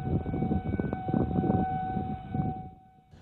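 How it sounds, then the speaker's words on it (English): An outdoor civil defense siren sounding a severe weather warning, a steady sustained wail holding one pitch with a layered tone, slightly distant and fading toward the end. "When there is bad weather, you will often hear siren sound."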